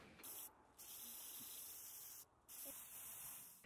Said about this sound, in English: so I'm gonna spray paint it.